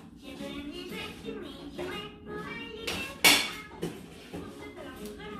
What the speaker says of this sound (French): mes couvercles en fait de petites casseroles, etc. vont très bien dessus